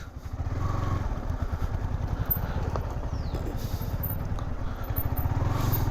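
A motorcycle engine putters steadily and closely throughout, a continuous low rhythmic rumble with rattling, as it rides downhill along a rough village path.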